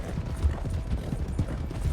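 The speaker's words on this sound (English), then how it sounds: "I just heard the horses." Horse hooves clip-clop steadily in Red Dead Redemption 2 roleplay, a close, continuous trotting rhythm of dull thuds over a low rumbling background.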